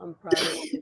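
A single short sneeze bursts out between brief bits of quiet speech, close and soft.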